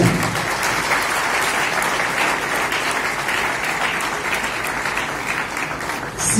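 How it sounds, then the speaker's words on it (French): Audience applauding a governor at a DRC political event, dense sustained clapping filling the space steadily from start to finish with no voices standing out. "Acclamez pour le gouverneur."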